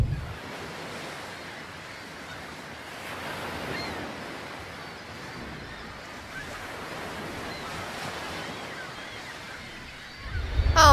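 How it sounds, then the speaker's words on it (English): Strong gusts of 30 to 40 mph roar across a clifftop coastal campsite in Northern California near a lighthouse, a steady broadband rush with surf-like swells, buffeting the microphone and swelling louder at the end. "That wind really picked up, like 30, 40 mile an hour gust."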